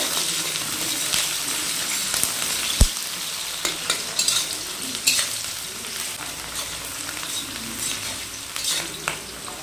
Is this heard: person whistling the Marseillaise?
no